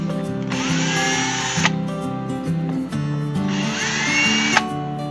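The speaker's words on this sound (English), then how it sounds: "let's pull the screws out and pull the pickguard off" Pickguard screws on a guitar are backed out with a power driver: two whirring motor runs of a couple of seconds each, with rising pitch and a brief pause between them, close by.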